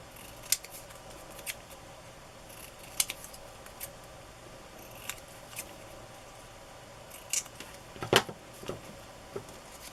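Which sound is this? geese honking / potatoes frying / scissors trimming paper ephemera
scissors trimming paper ephemera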